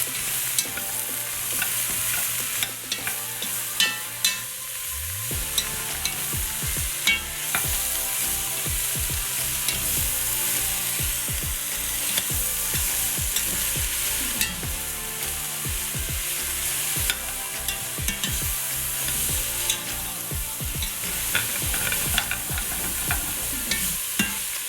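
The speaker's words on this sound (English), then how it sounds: "And we'll give this a stir" Chicken stew being stirred in a pot over a steady background sizzle, with repeated scraping and clinking strokes of the spoon, close and fairly loud, no talking.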